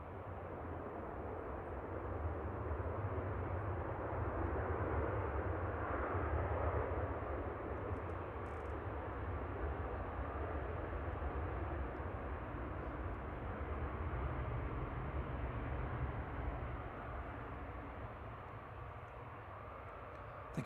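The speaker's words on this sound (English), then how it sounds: "Ryanair that we briefly saw turning on to the localizer is just about to touch down in the background" A Ryanair jet arriving from Agadir touches down at Manchester Airport in the distance, a faint, steady rumble of engine noise that holds throughout, with no voices.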